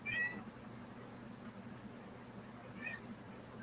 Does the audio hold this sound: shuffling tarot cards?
no